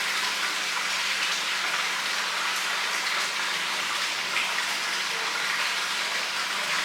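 Steady flowing water from a pool, a continuous close rushing wash with no break in level and no voices.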